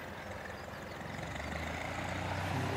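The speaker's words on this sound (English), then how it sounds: "So that'll be the engine, as you can hear." A light aircraft's engine runs steadily at an aero club refuelling area, a faint and constant drone that swells slightly toward the end.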